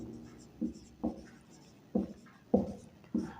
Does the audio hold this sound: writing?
yes